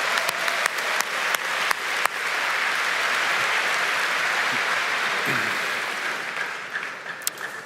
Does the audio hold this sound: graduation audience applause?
yes